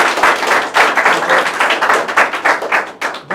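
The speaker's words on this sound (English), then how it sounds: "kindly clap everybody for them" A group claps for three candidates after results are announced at an SSB preparation session, brisk close-up handclaps in an irregular burst lasting a few seconds.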